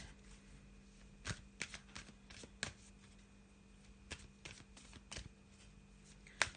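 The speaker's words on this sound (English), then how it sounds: "I'm going to use the Gateway Oracle to put down our Oracle cards" Gateway Oracle cards are shuffled and laid down during a tarot reading: scattered soft, crisp card snaps and flicks over a quiet background, close and faint.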